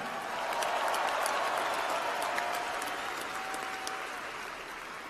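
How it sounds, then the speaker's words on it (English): Iowa State men's basketball fans fill an arena with broad, continuous applause and crowd noise, a loud, even roar of clapping that tapers slightly toward the end, with no clear speech. "Give yourselves a big round of applause."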